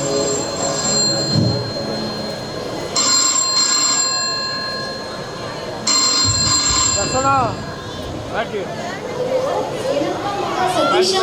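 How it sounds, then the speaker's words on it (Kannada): A telephone ringing out during a call to a son, with bursts of ringback tone repeating at intervals under ongoing talk and background chatter. "ಫೋನ್ ಮಾಡಿ ನೋಡ್ತೀನಿ"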